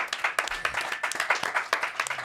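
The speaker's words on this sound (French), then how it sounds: "On peut applaudir Bernard" Clapping from a podcast studio audience applauding Bernard, the show's photographer, during a Montreal sports podcast episode; a small group claps in a dense patter for about two seconds, with a faint whistle-like tone and a brief voice underneath.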